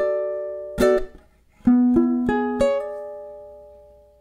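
Ukulele playing two measures of a song, a few clear plucked chords ringing out with a pause between the first and the later strums, decaying gently in a quiet room.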